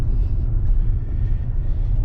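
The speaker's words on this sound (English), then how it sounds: "creeping through the parking lot" A car creeps slowly through a parking lot, heard from inside as a steady low rumble of engine and road noise with no talking.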